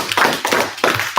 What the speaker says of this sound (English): Let's give Si a round of applause.